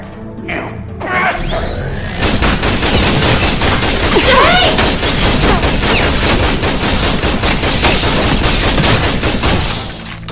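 A sustained, dense barrage of guard gunfire in Tales from the Borderlands, loud and continuous for about ten seconds with crashing impacts mixed in, preceded by a brief rising whoosh.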